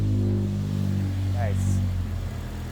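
A Civic with a K24 engine swap cranks and catches, settling into a steady, close idle with a brief rising chirp partway through.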